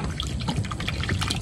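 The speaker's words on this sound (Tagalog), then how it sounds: "Dagdagan natin ng tubig" Water pours steadily into a cooking pot of sinigang na barakuda, a Filipino sour fish soup, making a continuous close splashing trickle for a moment with no talking over it.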